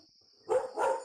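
A dog barks twice in quick succession in the room during a Rec Room virtual reality game session, loud and close, with a steady background tone and no talking.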